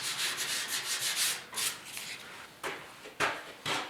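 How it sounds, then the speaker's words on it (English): A grinder sanding the steel bodywork of a 1969 Ford Bronco bed under repair, heard as repeated rasping bursts of varying length, close and fairly quiet, with brief pauses between strokes. "We'll use the grinder."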